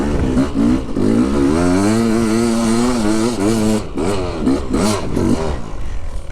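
A motorcycle on Dunlop Extreme Enduro tyres rides through freezing UK snow and swampy ground, its engine loud and close, revving and wavering up and down without a break.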